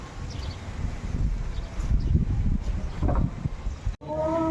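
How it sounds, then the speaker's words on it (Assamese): A breeze gusting around a home, heard as a continuous low rumbling buffet that swells and eases, with a brief dropout near the end. "কিন্তু ইমান ধুনীয়া বতাহ দিছে।"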